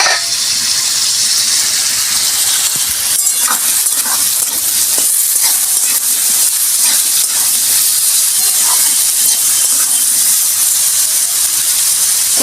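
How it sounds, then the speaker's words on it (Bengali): Spiced teasel gourd (kakrol) frying in a pan, a loud, continuous hiss and sizzle of hot oil with occasional soft stirring scrapes, close and unbroken throughout. "এবার আমি ভালো করে এটা ভাজবো।"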